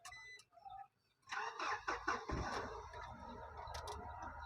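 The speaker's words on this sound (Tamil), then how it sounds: "வண்டியோட இன்ஜினை ஸ்டார்ட் பண்ணுறோம்" A 2010 Mahindra Xylo diesel engine cranks and catches, then settles into a steady low idle rumble with faint clicking, heard alone without talk.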